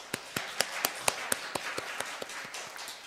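Sparse, evenly spaced claps or taps from a church congregation, about a dozen sharp hits at a steady rhythm over a hiss of room noise, rather than a full burst of applause.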